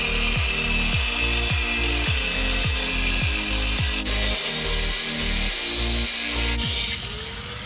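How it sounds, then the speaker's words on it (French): A drill bores into a metal exhaust pipe, a loud steady whir with a rhythmic grinding pulse about twice a second throughout. "il va falloir percer et puis souder le manchon qui va avec"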